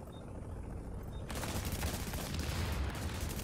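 Sustained bursts of gunfire from the video game The Division, starting moderate and growing into a dense, continuous volley after about a second, with no talk over it.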